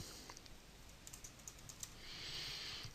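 Keys clatter on a computer keyboard as text is typed, a quick irregular run of soft, close clicks at low volume in an otherwise quiet room.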